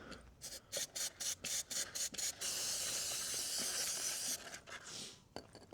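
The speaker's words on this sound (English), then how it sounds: "So we're going to apply our chain cleaner." Chain cleaner sprays onto a motorcycle chain in a quick run of short bursty hisses, then one long continuous spray and a few final spurts, loud and close with no talking.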